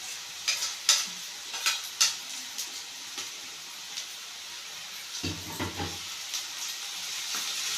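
Tomatoes sautéing in oil in a pan for a bitter gourd fry, a continuous sizzle marked by repeated sharp scrapes and taps of a spatula, busiest early on, with one heavier clatter partway through and no speech.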